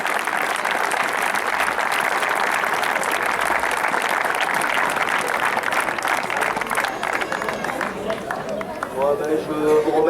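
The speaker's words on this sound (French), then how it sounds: "Michael est un petit peu ému, vous pouvez l'applaudir." Loud, sustained crowd applause at a charity football match in La Ciotat, dense and steady clapping from a large audience with cheering, and voices rising toward the end.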